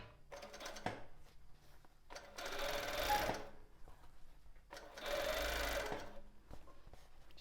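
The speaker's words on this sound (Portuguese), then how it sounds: "Então agora a gente vai elastizar aqui esse lado de cima da base, aqui na máquina galoneira" Two short bursts of a coverstitch machine sewing elastic onto the upper edge of an embroidered tulle bra base, each a close mechanical whir separated by quiet pauses with light handling clicks.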